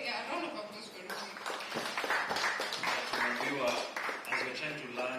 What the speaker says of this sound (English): a round of applause for Ruby